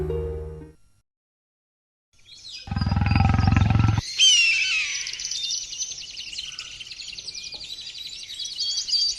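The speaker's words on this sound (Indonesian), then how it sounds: "Aku yakin itu singa atau harimau pemangsa manusia." A lion or tiger roars in a dramatized scene: a short low growl, then a loud deep roar that flows into a long, bright, high-pitched cry heard alone with no talking.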